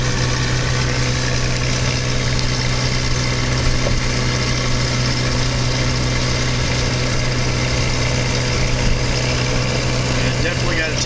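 Motor of a Silver Dart aircraft running steadily at partial power throughout, a loud continuous drone with a strong low hum, while people talk over it.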